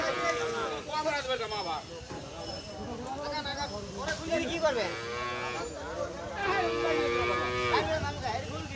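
Cattle moo repeatedly in long, low drawn-out calls, several animals overlapping, amid crowd chatter and people talking at a busy, noisy outdoor cattle market in Bangladesh.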